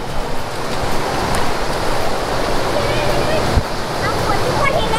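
A waterfall at Khao Yai pours into a swirling whirlpool, giving a dense, continuous rushing roar of water nearby with no pauses.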